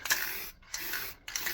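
Two or three short hissing bursts of spray finish onto routed plywood, each about half a second, separated by brief pauses, close by.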